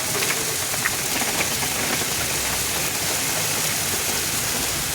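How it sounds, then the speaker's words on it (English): A dense, steady patter of heavy hail pelts a surface, a continuous close hiss with occasional sharper hits. "That, my friends, is the sound of a very heavy hailstorm."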